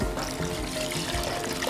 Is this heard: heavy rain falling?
no